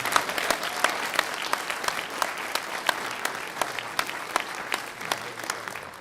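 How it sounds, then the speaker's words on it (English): A forum audience claps for candidates in a county commissioner race, with individual sharp claps standing out from a softer mass of applause that stays fairly even and moderately faint throughout. "Let's give them all a round of applause."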